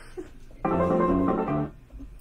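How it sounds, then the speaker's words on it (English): A mobile phone ringtone sounds during a live acrylic painting lesson as a short melodic burst of about a second, loud and clear against a quiet room before it cuts off. "that was my phone going off. You heard my ringtone there."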